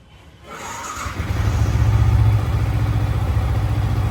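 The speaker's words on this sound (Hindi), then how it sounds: "अब हम बाइक स्टार्ट करते हैं।" A motorcycle freshly serviced at home with new engine oil starts up after a brief crank, then settles into a loud, steady, smooth idle close by.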